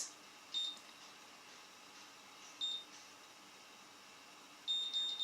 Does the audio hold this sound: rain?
no